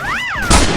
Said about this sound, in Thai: นี่แหละวางระเบิดตูม เตรียมวางระเบิด